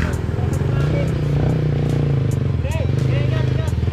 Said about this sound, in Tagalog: Aerox, Ibzay, malalupit ang mga motor.